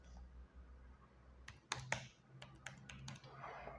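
Password being typed on a laptop keyboard: a short run of quiet, close key clicks in irregular bursts over a low background hum, with no talking.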